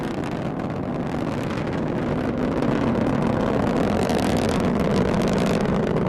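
Rocket climbing on NASA's mission to touch the Sun, strap-on boosters at full thrust and core booster throttled to partial thrust, gives a steady, loud, broadband roar that rumbles without letup throughout.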